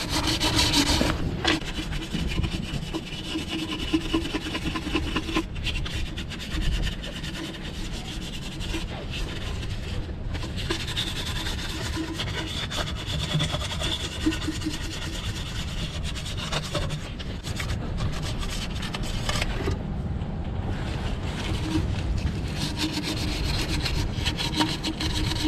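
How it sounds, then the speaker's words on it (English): Sandpaper rubbed back and forth by hand across the upper intake manifold mating surface of a Honda K-series 2.0L/2.4L engine, a steady close scratchy scraping that runs continuously without pauses or talk. "So I'll use a sandpaper and a clean rag. Go ahead, sand that down."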